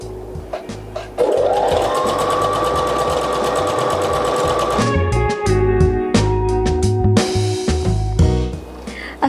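A sewing machine stitches thrifted clothes in a rapid, loud mechanical whir, running at speed for several seconds and then continuing in slower, uneven bursts.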